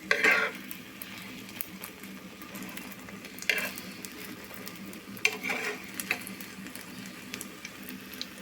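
A flipped egg fries in a pan with a low, steady sizzle, and a few sharp clinks of a utensil against the pan come through at intervals.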